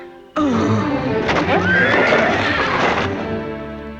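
A loud horse neigh and whinny, shrill and wavering, rising and trailing off over a few seconds, close by.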